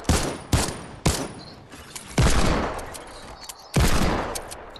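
Suppressed SMG fire in a video game, five sharp bursts spaced irregularly, each a loud crack trailing into a short decay, with faint game sounds between and no talk.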